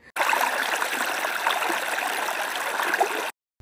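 A small artificial stream flows through a model garden, giving a close, steady trickling and gurgling rush that runs evenly for about three seconds and then cuts off abruptly.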